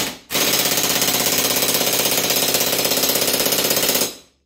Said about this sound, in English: We're gonna crank down on this as much as the impact will go.